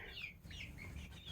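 Chickens being moved to a new spot inside a fenced outdoor run cluck and chirp in short, close bursts over a brief stretch, with low background noise and no talking.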